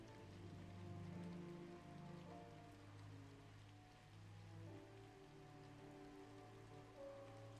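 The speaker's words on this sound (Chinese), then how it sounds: "好大雨。" Heavy rain in a Hong Kong crime film scene, a soft, steady wash of downpour on surfaces that continues throughout, with sustained musical tones underneath.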